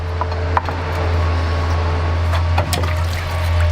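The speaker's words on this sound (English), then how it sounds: "You'll take your small pry bar, pry off as much as you can. Then you can use the wood as a leverage." Small pry bar scraping and levering an old piston cup out of a pump barrel, with a wood block used for leverage; scattered metallic clinks and scrapes ride over a steady low mechanical hum.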